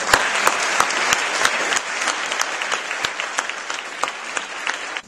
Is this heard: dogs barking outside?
no